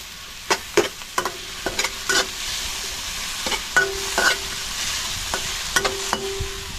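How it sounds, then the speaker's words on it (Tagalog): Tomatoes being sautéed in a pan while cooking outdoors in the mountains, a steady sizzle under repeated scraping and stirring strokes of a utensil, close and without talk. "Nagisa muna tayo ng kamatis."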